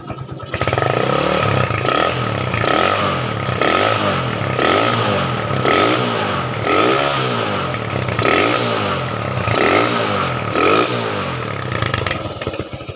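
Valve tappets ticking in a stock Honda Tiger motorcycle engine at idle, a steady loud mechanical clatter with a regular pulsing rhythm heard close up, continuous with no talk.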